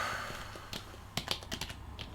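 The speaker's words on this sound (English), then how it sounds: "It's always a lot of typing" Fingers tap on a computer keyboard in a quiet room, with irregular bursts of clicky keystrokes, soft at first and then sharper and quicker, close by and fairly faint.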